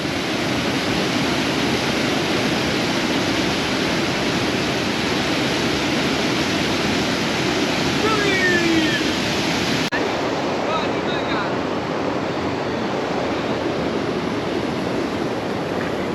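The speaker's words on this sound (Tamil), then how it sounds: "தண்ணியோட சவுண்டு தான் நல்லா கேட்குது." Kosasthalai river water pouring over the Thamaraipakkam check dam, a steady, loud rushing roar like broadband surf that stays constant throughout, with no breaks or talk.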